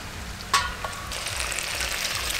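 Ripe tomatoes are stirred into a rupchanda fish curry in a hot pan, with a clack of the spatula followed by a rising, steady close sizzle.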